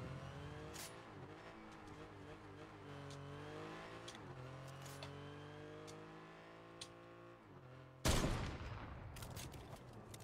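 In the Fortnite video game, a car engine hums and shifts pitch under rapid bursts of gunfire, followed by a sudden loud blast of noise and more scattered shots near the end.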